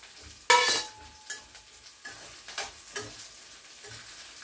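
Chilies drop into a hot pan with a sharp clatter, then a spoon stirs them through a soft sizzle in scattered scrapes and taps, close by with no voices.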